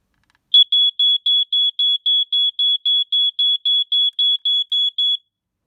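A 2019-collection smoke alarm under test gives a run of about eighteen sharp, shrill, evenly spaced beeps, loud and alone in otherwise silent surroundings.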